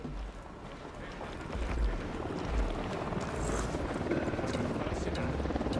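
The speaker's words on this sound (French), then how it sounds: "Hélico de l'unidad en patrouille." A military helicopter on patrol in the Ghost Recon Wildlands game drones with a broad, steady rotor rumble. The sound swells slightly and stays loud throughout, with wind-like noise mixed in.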